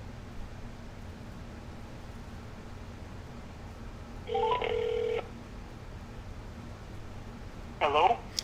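An outgoing phone call rings twice: a steady electronic ringback tone for about a second, then a second burst several seconds later, both moderately loud over a quiet hiss.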